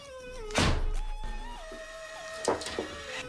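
Semi-automatic potato tank cannon cycling through its reload, a heavy mechanical thunk followed by a humming motor whine that shifts pitch, then another clunk near the end, close up with no talk.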